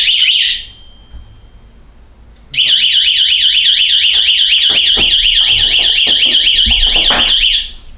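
A loud YoLink power outage detector alarm warbles continuously for several seconds after a short beep, with faint handling sounds and thumps underneath.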